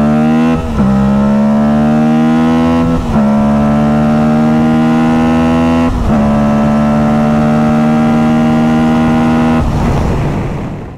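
Aprilia Tuareg Rally 660 motorcycle accelerating hard in second gear: a loud, close, continuous engine roar whose pitch climbs steadily, with brief dips at several gear changes before rising again, and no talk over it.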